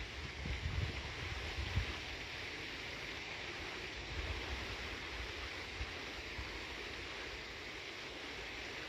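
Water flows over rocks at a waterfall as a steady, broad rushing roar, faint and continuous without a break, with low rumbles underneath and no voices.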